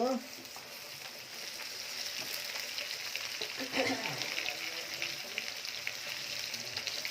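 Garlic going into onions already fried in a pan, a soft continuous sizzle with faint stirring and clinks, fairly quiet and steady, with a little talk over it.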